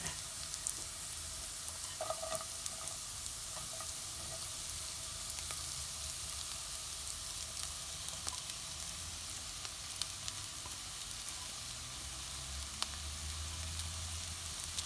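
Chicken pieces frying with lightly cooked onions in a pan, a steady broadband sizzle running throughout with occasional soft clinks of stirring, no talking.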